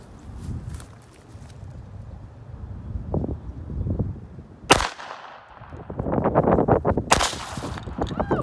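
A .22 pistol loaded with a .22 short round fires a single sharp, close crack outdoors, with wind rumble and handling noise before and after the shot.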